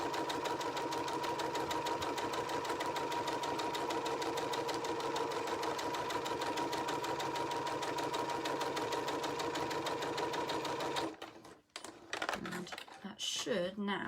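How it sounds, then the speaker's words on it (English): A sewing machine stitches forward along the seam of a book pillow, a steady, fast, continuous mechanical whir that runs loud and unbroken for about eleven seconds before stopping abruptly, followed by faint handling sounds. "then I'm just going to sew forwards"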